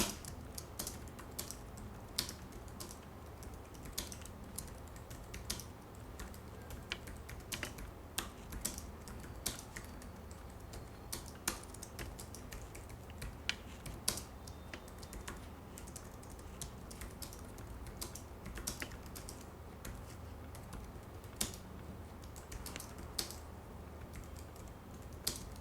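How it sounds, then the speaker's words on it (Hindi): Soft, muted keystrokes tap in a quick, uneven run on a low-profile keyboard, close and quiet, with no talking. "मैं आपको एक टाइपिंग सैंपल दिखा देता हूं।"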